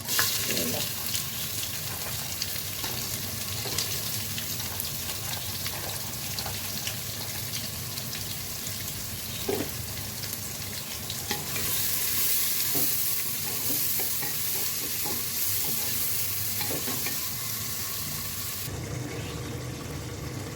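Beef frying in mustard oil with cardamom, cinnamon, black cardamom and star anise, with onion added, gives a steady close sizzle. Spatula stirs scrape through it for about twenty seconds, and there is no talking.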